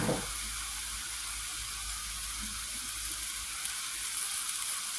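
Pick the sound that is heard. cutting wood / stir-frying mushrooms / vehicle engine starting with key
stir-frying mushrooms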